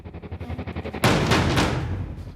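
A single loud, sharp gunshot cracks out partway through, followed by a lingering broadband decay, after a stretch of rhythmic low background sound.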